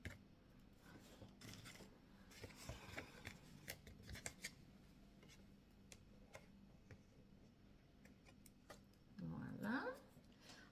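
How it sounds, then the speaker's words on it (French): Scissors snip off excess card paper from a handmade scrapbooking card, a string of quiet, close cuts and clicks while a person talks softly. "je coupe ce qui dépasse bien sûr."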